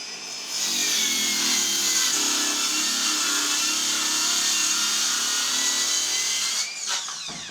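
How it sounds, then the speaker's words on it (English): A battery-powered saw cuts through a wooden board in a workshop, one continuous high buzzing whine of the blade biting the wood for about six seconds, loud and close, before it winds down and stops. "cut it with my battery saw"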